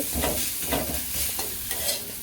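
Spice paste sizzles in a pan while being stirred and scraped in steady strokes about twice a second, with a constant loud frying hiss underneath.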